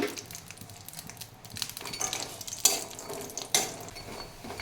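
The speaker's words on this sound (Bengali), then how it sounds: "ডালি বড়ি ভেজে নিচ্ছি" Lentil dumplings (bori) frying in hot oil in a wok, with soft sizzling under repeated scrapes and clinks of a spatula stirring against the pan, a few sharper knocks standing out, no talk.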